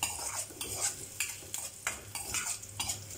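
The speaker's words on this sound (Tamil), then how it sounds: "நல்லா பொன்னிறமாக வறுத்துக்கோங்க" Garlic and green chili frying in ghee, sizzling under a steady rhythm of metal utensil strokes scraping and tapping the pan roughly every half second, close and clear, no talking.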